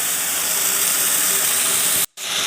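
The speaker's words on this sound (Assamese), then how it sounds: "এতিয়া আমি তেলত সৰিয়হখিনি দি দিলোঁ।" Mustard seeds sizzle in hot oil in a pan on a gas stove while a mustard seed chutney is cooked. A loud, steady hiss holds throughout and cuts out briefly near the end.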